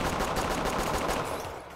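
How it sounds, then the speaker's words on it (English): Rapid pistol gunfire in a shooter video game, a dense run of sharp shots firing in quick succession for nearly two seconds, loud and close, then easing off at the end. "The pistol sounds nice."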